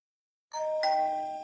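An electronic doorbell chimes once with a two-tone ding-dong, clear and close after a moment of silence, the second tone ringing out and sustaining to the end.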